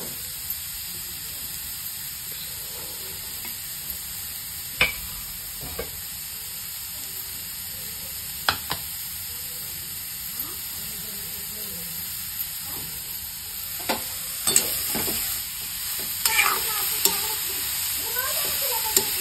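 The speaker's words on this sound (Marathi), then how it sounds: "तर ह्या तुपामध्ये हे जे किसलेलं गाजर आहे ते सगळं टाकून घ्यायचं आहे" Grated carrot frying in ghee in a pan, a soft continuous sizzle with occasional sharp scrapes and taps of a spoon as it is stirred, growing busier toward the end.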